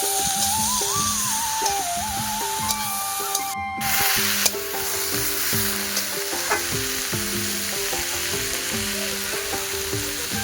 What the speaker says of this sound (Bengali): কপিটা আমার ভাজা ভাজা হয়ে গেছে,